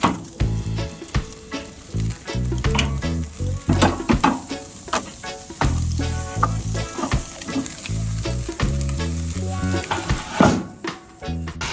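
Beef stir-fry sizzles loudly in oil on hot barbecue metal outdoors in Samoa, a dense, continuous crackle with stirring and scraping bursts throughout.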